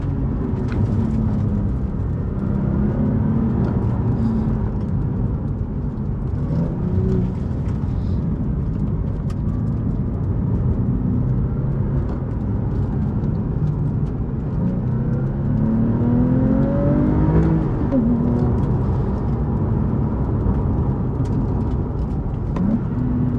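A 991.2 Porsche 911 Carrera T flat-six with headers and a vortex collector pulls hard under acceleration, a steady loud engine drone with rising tonal sweeps throughout, no voices over it.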